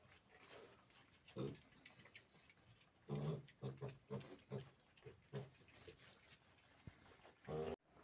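Pigs, including a boar eating a pumpkin, grunt and snort in short irregular bursts close by, with chewing and shuffling noises and some voices in the background, on a rural Ukrainian farm.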